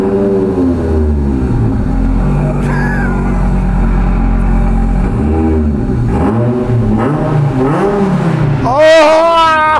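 Car at JP Performance running with a loud engine that rumbles and revs in rising and falling bursts, close and dominant throughout, with brief excited voices over it toward the end.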